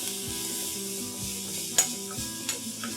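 Chopped capsicum stir-fries in a pan for Mexican tacos, a soft, steady sizzle with a couple of sharp utensil clinks against the pan and no talking.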